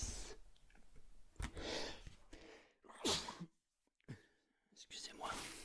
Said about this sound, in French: J'ai juste éternué.